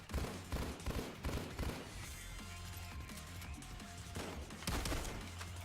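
Gunfire in the video game Payday 2, where sniper shots ring out amid bursts of rapid shooting, loud clustered cracks at the start and again near the end around a stretch of quieter rumbling action.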